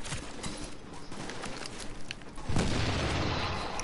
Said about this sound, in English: catch that nade